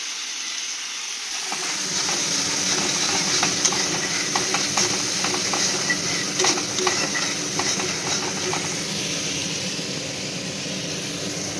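Onion and garlic paste frying in a pan while being stirred: a loud, steady hissing sizzle starts after about a second and continues throughout, with scattered scraping clicks from the stirring.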